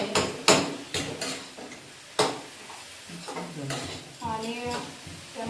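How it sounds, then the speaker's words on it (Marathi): Crushed cardamom and sugar stirred into carrot halwa in a pan, a few distinct scraping and knocking strokes of a spoon against the vessel, with a voice speaking between them. "आणि त्यानंतर मी वेलची जराशी हलवून घेते, एकत्र करून घेते."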